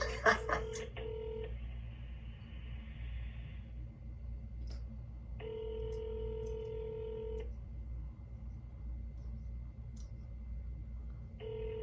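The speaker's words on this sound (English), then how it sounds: "I think he hung up, so I'm gonna call back." A phone keypad sounds a short run of touch-tone beeps, each tone held for a different length with pauses between, in a quiet room while a call is placed again.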